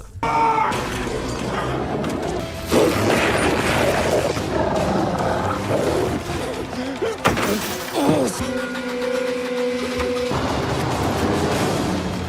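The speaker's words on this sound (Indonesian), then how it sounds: "dengan kekuatan kepepet, Arthur pun mampu memecahkan kaca." Glass smashing in a film scene, a bright crash over a dense roaring, music-heavy soundtrack with animal-like growls, followed by sustained tones.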